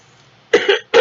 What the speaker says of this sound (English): You will have to excuse me for the coughing.